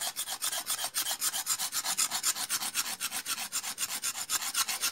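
Rapid, rhythmic rasping of a blade scraping resin-rich pine fatwood into fire-starter shavings, about five strokes per second, steady and close with no talking.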